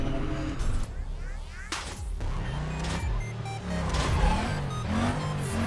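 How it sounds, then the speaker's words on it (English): A car's engine revs and its gearbox shifts through gears in Need for Speed Carbon, played with drift physics, the pitch sweeping up and dropping between shifts, with tire noise and loud, steady game sound throughout. "This gearbox sounds like a truck, man, like a fucking Mercedes truck"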